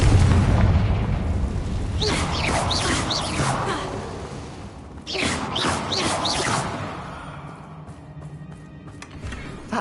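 Confringo blasting spells detonate in a Hogwarts Legacy fight against Ranrock's loyalists, two loud bursts with whooshing bright tails over a rumbling low bed, the second strike hitting around midway.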